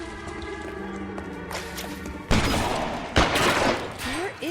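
Gunshots in a video game ring out as sharp bursts, two loud reports standing out over ongoing game noise and faint background sound, with no talk.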